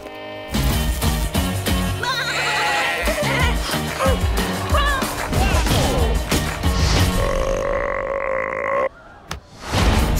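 Sheep bleat and grunt among a busy mix of music and cartoon effects in a Shaun the Sheep movie trailer, with short vocal sounds over a loud, dense bed and a brief drop near the end.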